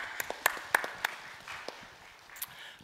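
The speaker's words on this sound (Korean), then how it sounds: "우리의 기도를 들으시고 응답하신 하나님께 감사와 영광의 박수로 올려드리겠습니다." A church congregation gives a short round of applause after a prayer, with a few sharp distinct claps at first, then a softer, thinner patter that trails off.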